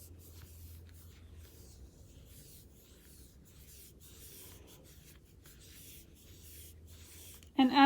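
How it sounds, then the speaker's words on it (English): Scissors trimming excess off t-shirt yarn, a soft continuous rustling of fabric being cut and handled, quiet and close, with a sharper louder snip at the very end. "I'm just going to trim the excess off."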